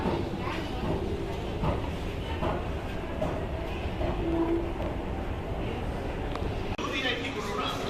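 Metro train sounds inside a Bangalore metro station, a steady rumbling rail noise with faint clatter under continuous crowd and station hubbub, with people talking nearby.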